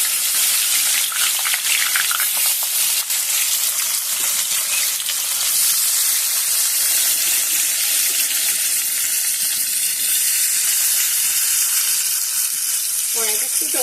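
Fish pieces wrapped in bottle gourd leaves drop one by one into hot oil in a small wok, producing a loud, continuous close sizzle and bubbling frying hiss throughout.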